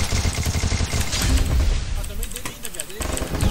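Rapid bursts of gunfire from a shooter video game crackle in quick succession, dense and loud with brief pauses between volleys.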